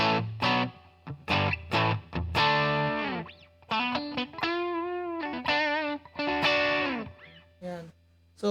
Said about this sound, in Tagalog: Kumbaga, overdrive, para lang siyang konting distort na tunog.